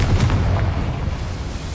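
The Confringo fire spell in Hogwarts Legacy detonates as a loud, booming blast, a close burst with a rumbling low tail that lingers under the game's ambience.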